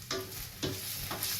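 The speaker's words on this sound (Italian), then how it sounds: "comincia a friggere." Pasta with broccoli sizzles and fries in a pan, a constant crackling hiss broken by three short stirring scrapes.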